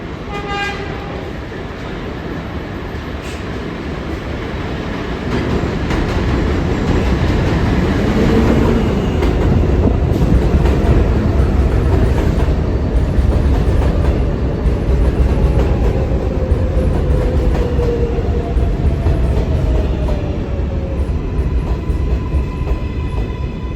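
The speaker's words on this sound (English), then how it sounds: "This is a Manhattan-bound train." An R188 7 subway train pulls into Court Square station on the Manhattan-bound track, a loud, steady rumble of wheels and motors building and holding, with a horn toot near the start and screeching rail tones sliding through the roar.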